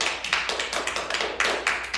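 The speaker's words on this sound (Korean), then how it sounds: "박수를 한번 쳐주고 싶습니다" Hands clapping in a short burst of applause at a birthday celebration for a K-pop group member, with a steady rapid rhythm of sharp claps from a few people close by and no talk over it.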